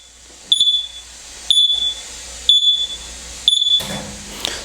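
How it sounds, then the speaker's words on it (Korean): Four evenly spaced high-pitched electronic beeps from a tire-filling nitrogen generator signalling a completed fill, each short and sharp, about one second apart, with a faint hiss between them. "지금 삐삐 소리 나는 거는 질소 충전이 다 됐다라는 알람이고"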